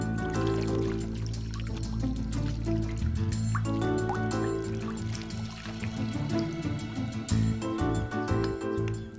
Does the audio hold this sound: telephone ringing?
no